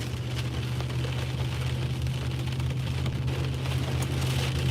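Torrential rain pounds on a truck during a violent thunderstorm with strong winds, a loud, unbroken wash of drumming over a low steady engine hum, without speech.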